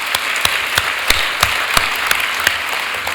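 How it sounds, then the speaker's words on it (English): Audience applause at a business hall of fame ceremony, loud and sustained, with a few sharper individual claps standing out from the dense wash of clapping. "Let's give him one more round of applause."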